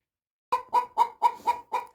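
Chickens in a coop cackling in a steady series of six loud, close clucks about a quarter second apart after a brief silence.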